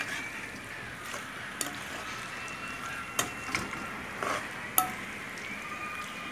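A spoon works through a mango amchar mixture with added sugar, giving soft scraping and a few sharp clinks against the container over a faint background hiss, with no talk.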